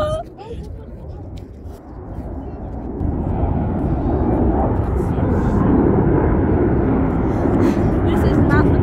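Blue Angels jet aircraft passing overhead, a broad roaring rumble that swells and holds loud and steady, with people talking faintly beneath it.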